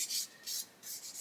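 A sanding sponge rubs the edge of a plastic part from an Airfix 1/72 Lancaster B.III Dambuster kit in three short, close, raspy strokes with brief pauses between them.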